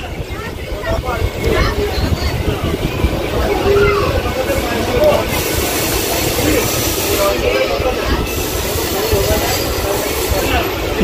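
The new Katwa to Bardhaman local train runs near Katwa junction with a continuous rumbling roar and airy hiss from inside the moving carriage, steady and loud throughout, with faint voices underneath.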